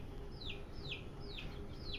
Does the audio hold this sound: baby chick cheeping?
yes